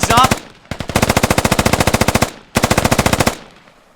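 A SAW light machine gun in the video game Squad fires in long, rapid automatic bursts, sharp and loud, with a short pause after an opening burst, then a sustained stream and a final burst that trails off.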